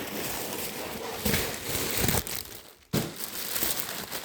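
A large plastic bag of frozen chicken crinkling and rustling, steady and close, with a few louder crunchy handling bursts and a brief quiet pause near the end.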